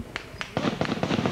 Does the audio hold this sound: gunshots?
yes